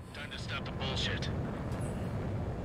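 A steady, roaring jet drone from a plane flying in the Ace Combat 7 video game. A few brighter whooshes rise over the roar.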